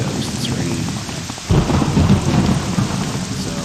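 Steady rain pours with rolling thunder in the OpenMW game world on an inland mountainside path, a constant wash of rainfall that swells louder about halfway through as a low thunder rumble joins in.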